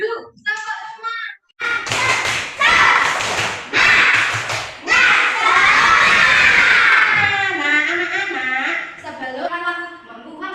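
Schoolchildren in an Indonesian classroom perform a rhythmic group clapping chant, bursts of sharp unison claps alternating with loud shouted chanting voices, energetic and close, with a teacher's voice briefly at the start.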